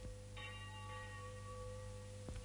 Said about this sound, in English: Church bells were ringing, calling the devout Belgian people to early mass.